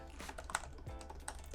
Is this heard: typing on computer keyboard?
yes